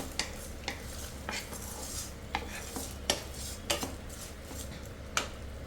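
A spoon stirs peanuts and tomato with rock salt frying in a pan for chutney, giving soft irregular scrapes and metallic clinks over a low, steady sizzle, close but quiet, with no talking.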